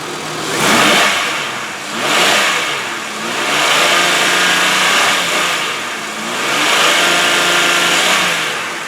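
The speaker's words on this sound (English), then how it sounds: "now I'm gonna shut up and rev the engine up for you guys so you can hear how she sounds" A 2002 Oldsmobile Silhouette minivan engine revs up close in several loud repeated pulls, each rising and falling back toward idle, with no talking over it.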